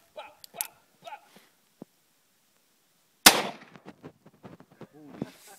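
A single sharp, loud magnum handgun shot cracks out at a shooting range midway through, with people talking before the shot and afterward.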